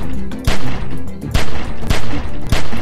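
Loud bursts of gunfire in The Walking Dead: 400 Days video game, several sharp shots spaced irregularly over a continuous noisy background during a shootout.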